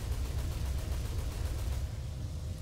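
Rapid aircraft machine-gun fire aimed at a Stuka in War Thunder, a dense, continuous burst of gunfire with rumbling low end that holds steadily for nearly three seconds.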